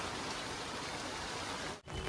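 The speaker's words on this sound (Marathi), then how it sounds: "पाणी काय कमी नाही, पाऊस होत आहे खतरनाक" Heavy monsoon rain pours steadily in Mumbai, a dense, close broadband hiss that fills the whole clip apart from one brief dip near the end.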